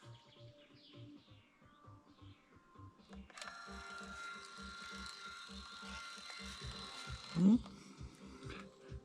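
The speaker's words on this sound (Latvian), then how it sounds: "Man ir tāds foršs printers." A small sticker printer works in a quiet room, giving a steady mechanical whir with faint ratcheting clicks for several seconds, over a soft repeating low thump in the background.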